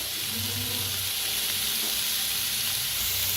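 Onion and tomato fry in a pan with a steady, close, bright sizzle that holds evenly throughout, with faint low stirring movement underneath.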